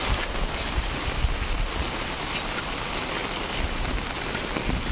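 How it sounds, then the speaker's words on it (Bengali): Heavy rain pours down steadily in a village, a dense, even hiss of drops on surfaces that stays loud and unbroken without any talking. "প্রচুর পরিমাণে বৃষ্টি হচ্ছে।"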